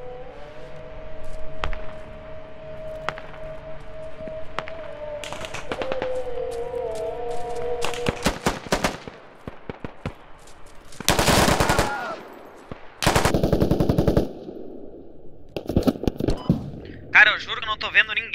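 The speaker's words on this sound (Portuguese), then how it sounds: "Me acharam aqui, estão atirando em mim." Rapid bursts of automatic gunfire and single shots crack through a combat round in the military shooter Squad, loud and close, with a tonal hum underneath early on and a player talking during the fighting.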